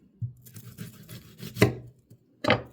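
Garlic and onion being chopped on a board for an eggplant and ground beef dish, a run of soft knife taps with two sharper, louder chops near the end, close and with no talk.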